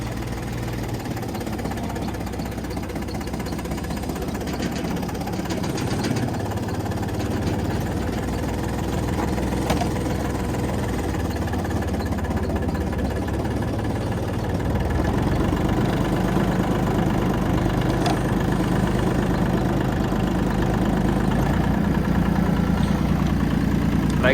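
Iseki TA235 Landleader tractor with front loader and power steering, its engine running steadily throughout while being driven, a continuous low diesel drone with slight knocking that swells a little louder toward the end.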